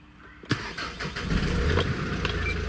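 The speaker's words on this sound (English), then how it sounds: "We are actually gonna turn the car on." A car is started after its battery was disconnected during an MM4x4 Automate installation: a sharp click, a brief crank, then the engine catches and settles into a steady, close idle with no talking.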